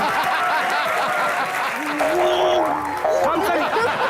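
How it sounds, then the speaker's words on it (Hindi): Studio audience on an Indian TV comedy show applauding, dense clapping mixed with some laughter and chatter, with a voice speaking through it. "जोरदार ताली एक बार सनी के लिए।"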